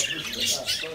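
Shrill parakeet squawks burst out in quick, overlapping calls inside a pet shop, close and fairly loud, for about a second.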